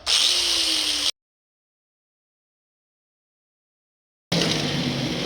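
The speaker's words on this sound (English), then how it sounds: "Now I'm going to take the grinder and I'm going to cut that out." Angle grinder cutting out a steel body panel on a 1948 Chevy truck, a loud high whine for about a second, then a full silence, then the grinding resumes.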